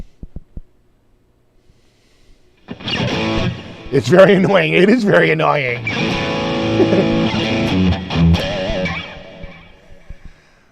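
Amp profiler firing a rapid series of test tones across many frequencies, sweeping and bleeping loudly for several seconds after a brief silence, with a person speaking over it.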